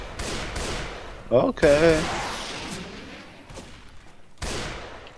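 Bursts of gunfire ring out in the zombie shooter Left 4 Dead 2, rapid shots near and loud, mixed with game sounds while a player talks over them.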